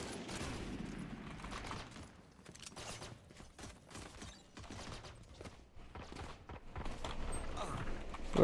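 Gunfire in the video game Valorant, scattered bursts of quick shots and clicks across the stretch, moderately loud against a busy game background.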